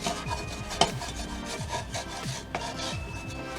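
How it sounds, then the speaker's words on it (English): A utensil scrapes browned bits of pork chop off the bottom of a frying pan with a little oil, repeated rasping strokes close up with a few sharper knocks, no talking. "don't worry about the bits on the bottom as I'm scraping them here"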